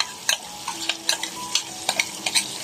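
A freekeh mixture tipped onto onions in a hot pan and stirred, with a steady sizzle broken by repeated scraping strokes of a spoon, close and clear with no talk.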